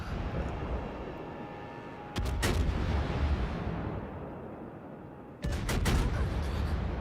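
Minotaur cruiser guns firing in World of Warships, two heavy booming salvos a few seconds apart, each a sharp crack followed by a rumbling tail over constant engine and sea drone.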